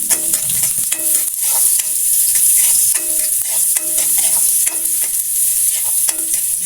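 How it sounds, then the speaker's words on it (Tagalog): Garlic and onion, added after ginger for chicken sinigang, sizzle loudly in hot oil while a utensil scrapes and stirs the pan in regular strokes, close and continuous with no talk. "Gisa lang natin hanggang sunod-brown yung ating garlic at yung ating sibuyas."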